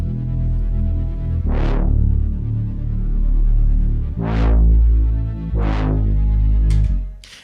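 A layered synth melody with the same line doubled an octave higher, built for a hip hop beat in Studio One, plays continuously with a wobbling, throbbing modulation and a few rising swells, loud and without talk.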